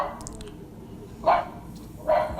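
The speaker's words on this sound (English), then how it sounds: "Alexa, ask Jurassic Bark to bark." Two recorded dog barks come from an Alexa smart speaker running the Jurassic Bark skill. Each bark is short and sharp with a clear pause between them.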